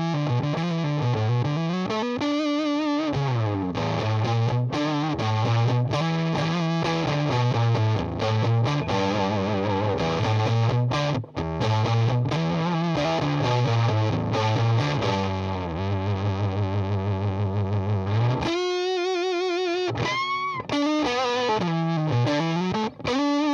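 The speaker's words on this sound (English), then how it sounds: "So again, it's got that nice smooth fuzz sound to it." Electric guitar played through an MXR Authentic Hendrix fuzz pedal, loud and continuous with smooth, saturated distorted tone, sustained chords and melodic runs, a brief break near the end before more fuzzy notes.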